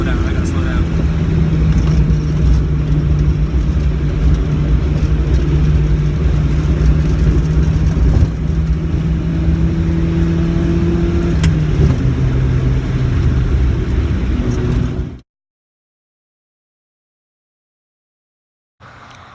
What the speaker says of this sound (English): This is where I gotta slow it down because I don't got tires. Major downshift right here.